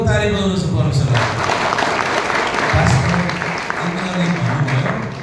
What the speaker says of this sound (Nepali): ठुलो ताली बजाउनुहोस् परमेश्वरलाई।